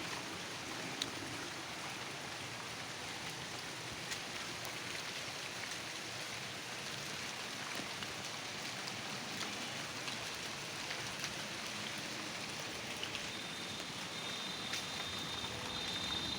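Steady soft patter of light rain falling in Kushtia, Bangladesh, without pause, an even hiss of drops with no voices.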